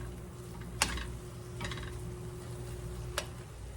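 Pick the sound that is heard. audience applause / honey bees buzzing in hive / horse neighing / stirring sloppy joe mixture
stirring sloppy joe mixture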